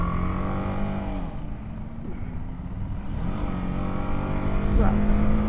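A BMW G 310 R motorcycle engine hums steadily through a corner, its pitch dipping and rising as the throttle eases off and comes back on, loud and continuous under wind noise with a voice talking over it.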